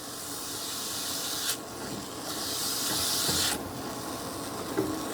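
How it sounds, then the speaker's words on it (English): Salted onions sautéing in a pan, a hissing sizzle that swells and drops back in bursts, with faint utensil taps near the end, close by and without voices. "We're going to start out by sauteing the onions."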